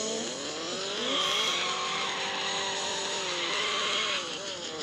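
In a driving video game played with a steering wheel, a car engine holds a loud, continuous drone while the tires squeal through a long, sliding drift.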